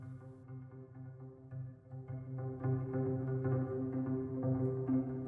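Low pizzicato double bass tones in a steady, droning texture, fairly quiet, with soft repeated attacks and no voices.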